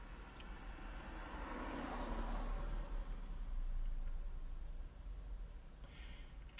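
A car drives past outside, a steady rumbling engine and tyre roar that swells in the middle and fades away, heard from indoors at moderate distance with no one talking.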